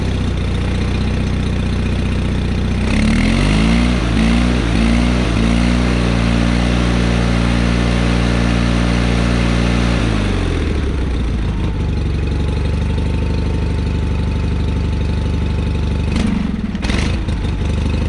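A John Deere 318 garden tractor engine with a slightly dirty carburetor, running loud and close. It starts up, holds a steady throbbing idle with some revving, then settles to a rougher, lower idle.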